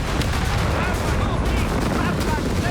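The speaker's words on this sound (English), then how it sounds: "Okay, more Axis artillery." Axis artillery fire in the Company of Heroes 3 strategy game forms a dense, continuous rumble of blasts and crackling gunfire that stays loud and unbroken throughout, with a voice faintly under it.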